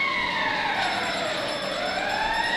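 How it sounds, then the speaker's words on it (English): A loud, sustained ice hockey goal siren wails with sweeping tones at a high school game, filling the whole clip without pause. "The siren sounds again."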